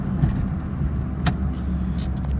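A 2011 Smart car engine revs after a downshift into second gear, a close, loud, steady mechanical drone with a brief sharp rise midway and no talk over it.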